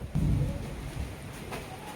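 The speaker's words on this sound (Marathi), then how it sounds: "विजांचा पण गडगडाट चालू झालाय." A low, deep rumble of thunder rolls in the distance over steady rain and wind noise, with no voices.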